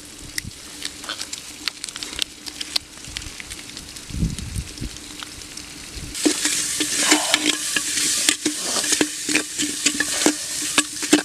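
Ginger garlic paste frying in a clay pot for chicken biryani gives a steady crackling sizzle with stirring scrapes, growing louder and denser midway through.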